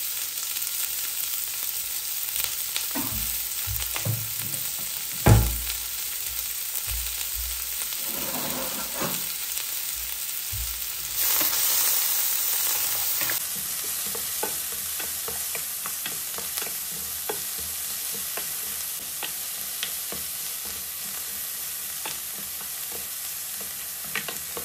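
Chopped onions with a bay leaf frying in a pan for palak paneer, a steady broadband sizzle with intermittent scraping stirs and a sharp clank near the start, continuing evenly and fairly close throughout.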